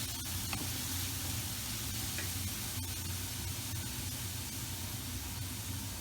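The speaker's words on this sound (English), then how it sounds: "we just want to very lightly brown the onion" Chopped onion sizzling steadily in a frying pan over low to medium heat while it lightly browns, a continuous close hiss with soft crackle and no voices.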